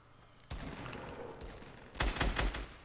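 Gunfire in a shooter video game, a sustained rattle of rapid shots with a louder burst toward the end, heard at moderate volume with no talking.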